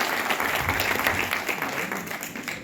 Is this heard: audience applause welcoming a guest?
yes